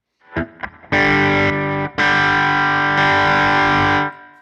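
Electric guitar played through two stacked Tone City Double Durple overdrive pedals, a few picked notes and then loud, sustained distorted chords that ring out in held bursts and stop abruptly.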